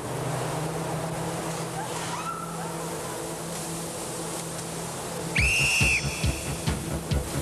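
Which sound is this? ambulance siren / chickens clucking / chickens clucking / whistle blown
whistle blown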